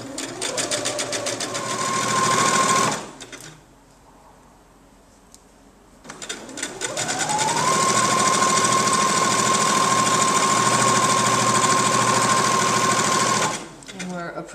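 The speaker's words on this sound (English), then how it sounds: "I sew 1 or 2 stitches into this fold, and then I turn the corner." Sewing machine stitching a fold of a party napkin, a loud steady whirring run, a brief pause, then a longer continuous burst of rapid stitching that stops abruptly, with a voice talking faintly.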